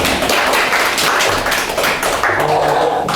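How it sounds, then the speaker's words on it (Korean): Audience applause at a Korean author talk on railway privatization: dense, steady crowd clapping filling the whole stretch at even loudness, with no voices over it. "다시 한번 좋은 말씀 해주신 박근구 선생님한테 큰 박수."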